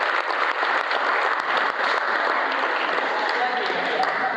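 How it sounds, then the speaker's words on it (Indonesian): Church youth applaud together in a steady, fairly loud burst of clapping that carries on throughout, with voices mixed in. "Tepuk tangan untuk gereja kita."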